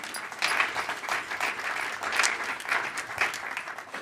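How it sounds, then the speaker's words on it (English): Audience applause at a State of Black LA community event, a steady crowd clapping that swells and eases across the clip. "that's worth a clap, right?"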